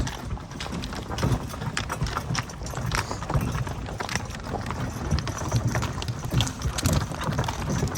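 Hooves of horses and mares clip-clopping steadily on the ground, a repeated close rhythm over light wind noise.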